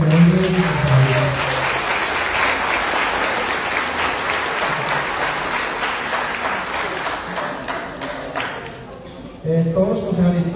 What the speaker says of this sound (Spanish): Démosle un fuerte aplauso a los miembros de la concejalidad.